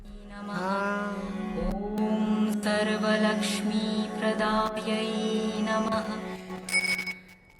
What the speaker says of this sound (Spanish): Me encanta el ting. Ting. Campana tibetana.